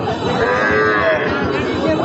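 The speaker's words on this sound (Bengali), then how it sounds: "আজকের বেতাগা হাটে অনেক গরু উঠছে" Cattle at a busy livestock market (haat) low and moo repeatedly, with drawn-out calls rising over a steady crowd murmur, close and loud throughout.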